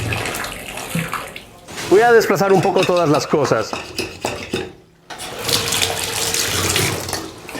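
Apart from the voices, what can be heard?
hot water running down drain after baking soda and vinegar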